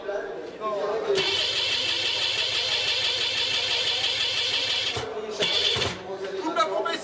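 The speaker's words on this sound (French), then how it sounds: "Les mécanos testent une dernière fois le moteur." Racing powerboat engine on the quayside started by mechanics for a final test, a steady loud mid-pitched running roar sustained for several seconds, briefly dipping and surging near the end, with voices speaking around it.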